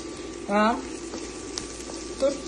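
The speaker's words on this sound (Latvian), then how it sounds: "Turpinam nedaudz apcept to visu." Soy meat fries in a pan of plentiful oil, giving a steady low sizzle and bubbling throughout, with a brief voice sound rising over it.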